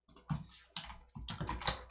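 Keys clack on a computer keyboard in short bursts of quick taps, close and fairly quiet, with brief pauses between the runs.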